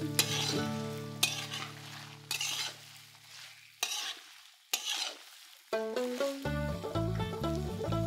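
Potatoes tipped into a hot pan for a Bengali labra vegetable curry, frying with a steady sizzle and stirred with repeated sharp scrapes and clinks, heard close over light background music.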